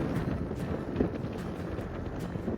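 Steady wind rumbling and buffeting outdoors at the Sky Walk in Świeradów, a continuous low roar with occasional gusts, fairly faint and with no voices.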